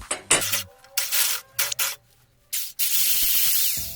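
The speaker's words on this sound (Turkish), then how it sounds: "Bu masada çok ses çıkarttığı için komşuları da pek fazla rahatsız etmemek adına bunu yerde keseceğim." Saw cutting a hard wooden axe handle for a camp axe, resting on the floor, with several short bursts of rough rasping strokes separated by pauses, then a longer sustained stretch of cutting near the end; close and fairly loud.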